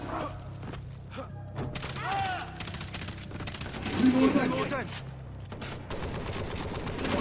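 Turret gunfire and in-game combat from the co-op shooter Far Cry 3 rattles through the mix, with thuds and bursts under and between excited players' voices.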